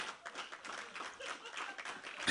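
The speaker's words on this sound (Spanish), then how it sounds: "¿Cuánto dan palmas de alabanza al Señor?" A church congregation claps together in praise during an evangelical service, a soft, steady patter of many hands heard at a distance for a couple of seconds.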